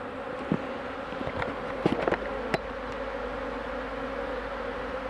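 Honeybees buzz close around a beekeeper's head in the sun, a steady insect drone with a few louder passes near the ear, no talking.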